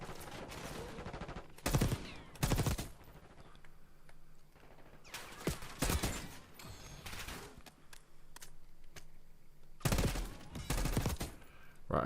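Bursts of gunfire in the video game Call of Duty Black Ops 6, several sharp rapid volleys separated by quieter gaps, fairly faint overall with light background clicks.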